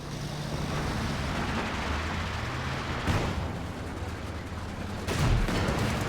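A dense artillery barrage in the World War II strategy game Company of Heroes 2 keeps rumbling with steady distant booms, punctuated by two sharper impacts near the middle and end.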